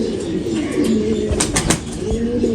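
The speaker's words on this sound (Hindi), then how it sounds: "ये इमामदीन कबूतर है" An Imamdeen pigeon coos low and steady at close range, with a few brief bursts of wing flapping in the middle.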